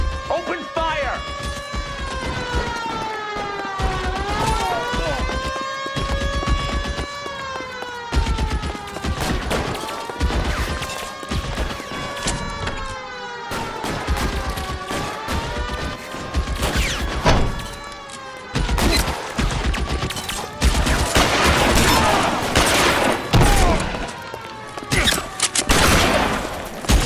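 Sustained gunfire from a police shootout in the 1940s Los Angeles crime game L.A. Noire, with repeated shots and bursts under dramatic orchestral music and occasional shouted voices, loud throughout.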